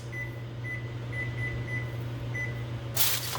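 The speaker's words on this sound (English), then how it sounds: "we're gonna set our oven timer to 10 minutes" A kitchen oven timer being set to ten minutes, a series of short electronic beeps over a steady low appliance hum, ending in a brief burst of broadband noise.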